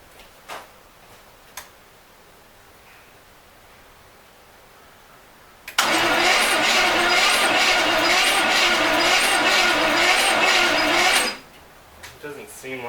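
A 1970 custom wide-body Corvette engine cranks on gasoline, the starter spinning the engine slowly in a steady, loud, even churn for about five seconds without firing, with quiet ticks before and after.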